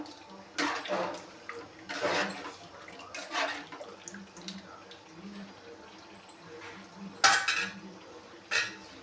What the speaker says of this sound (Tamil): போட்டுட்டு இப்படி நல்லா கிளறி விட்டுங்க. கட்டியே இல்லாமல் நல்லா கிளறி விட்டுட்டிங்கன்னா